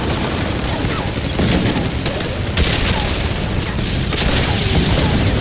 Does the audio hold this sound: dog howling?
no